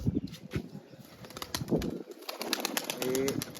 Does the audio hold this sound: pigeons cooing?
yes